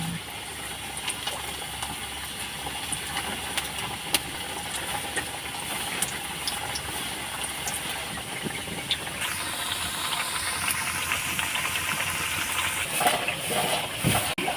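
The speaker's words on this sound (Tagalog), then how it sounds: "Papainit na tayo ng mantika. Maglalagay na tayo guys ng kamote." Sweet potato (camote) fries in hot oil, a steady, even sizzling hiss that holds throughout at moderate loudness, with a few light clinks near the end and no talking.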